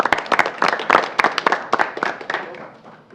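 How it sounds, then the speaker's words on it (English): A small audience at a school board meeting claps for a student's family, a short burst of close, distinct handclaps that tapers off after about three seconds. "Round of applause for them."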